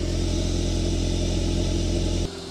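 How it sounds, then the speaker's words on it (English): A 2024 VW Golf's exhaust in race mode holds a steady, loud, low droning note close by, then drops sharply in level just before the end. "click into special, and listen to that exhaust."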